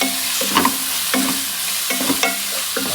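Mint and coriander leaves stirred into a sizzling biryani masala for mutton biryani, a steady fry hiss under a few scraping stirs of a spoon, close and fairly loud with no talking.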